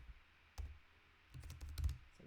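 Computer keyboard keys tapped while writing a for loop in a code editor, a few soft isolated clicks followed by a quicker cluster of keystrokes, quiet and close with no talking.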